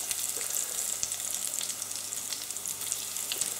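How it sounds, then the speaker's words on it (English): Battered onion rings sizzle steadily in hot frying oil in a small pan, a constant close crackling hiss with small pops and no voices. "Now they should sizzle just like that really when you put them in."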